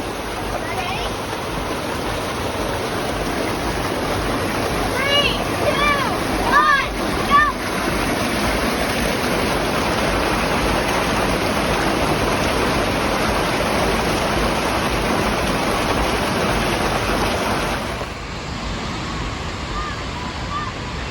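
Water rushes steadily and loudly on Fire Tower Falls, Dollywood's 70-foot water slide, as a continuous broadband roar that stops abruptly near the end. Brief voices cut through partway in.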